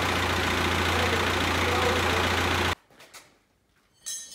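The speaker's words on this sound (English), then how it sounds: "I just have to raise the hydraulics to level that guy out." An old tractor runs loud and steady while it raises the hydraulics on a beat-up bush hog, then cuts off abruptly, leaving faint mechanical clunks and a brief burst of noise at the end.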